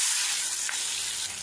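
Long-cut potato strips fry in oil left over from frying fish, a steady close sizzle and hiss without talk.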